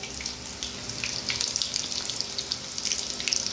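Prawn lollipops fry in oil over a low gas flame, giving a steady, hissing sizzle with crackly pops scattered throughout and no talking.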